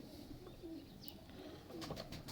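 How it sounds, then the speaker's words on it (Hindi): A male Misse pigeon coos softly in short low bursts over a steady background hum, with a few faint chirps from other birds in the loft. "ये जी मिस्से कबूतर हैं, ये नर है।"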